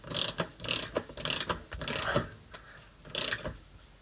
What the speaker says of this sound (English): So now I can just tighten this up until the washer compresses the pad.